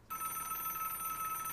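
A telephone bell rings steadily and fairly loudly with a bright, continuous trill, starting abruptly after a brief quiet moment and sounding alone with no talk.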